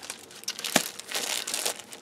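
Thin plastic page protector sheet sleeves from a Dollar Tree pack crinkle and rustle continuously, close and fairly soft, with one sharper crackle near the middle.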